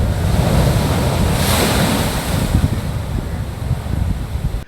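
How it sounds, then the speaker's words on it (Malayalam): Sea waves surge over a concrete seawall onto the shore opposite the Parimanam temple, a loud, continuous roaring wash with wind buffeting the microphone. "പരിമണം ക്ഷേത്രത്തിന് എതിർവശം കോൺക്രീറ്റ് സംരക്ഷണ ഭിത്തി കടന്ന തിരമാലകൾ തീരത്തേക്ക് അടിച്ചു കയറി"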